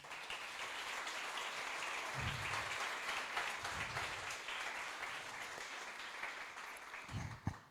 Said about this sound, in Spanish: Así que démosle un fuerte aplauso a Dios.